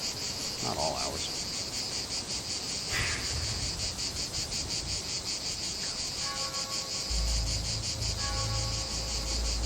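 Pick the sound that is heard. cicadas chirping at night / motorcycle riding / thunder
cicadas chirping at night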